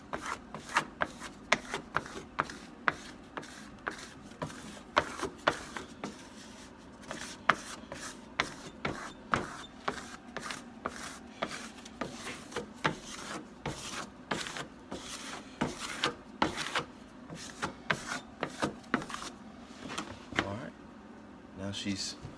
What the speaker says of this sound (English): you can take something to kind of like roll over this just to push some of that out so it's locked down